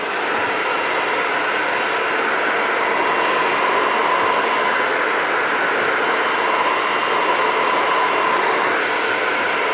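Hair dryer blowing continuously while hair is dried with a brush in a barbershop, a steady loud whooshing roar that holds unbroken throughout.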